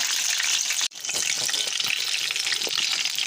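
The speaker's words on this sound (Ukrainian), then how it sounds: "Відразу жару." Cabbage-filled pies frying in hot oil in a home kitchen, a steady dense sizzle and crackle close by, briefly cutting out for a moment before resuming at full strength.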